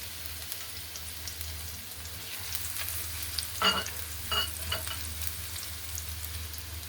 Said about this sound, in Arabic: هنا الارنب هنزل بالتومه